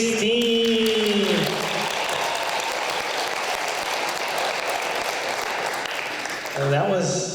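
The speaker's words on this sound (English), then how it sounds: "a round of applause for our Sweet" An audience at an international school literacy event in northern Japan applauds students, a steady mass of clapping framed by a brief electronic tone at the start and end, with voices mixed in.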